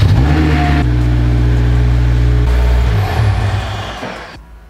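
A Honda S2000 sports car engine idles and revs steadily up close, a deep rumble with tonal hum, then the sound tapers off into near silence.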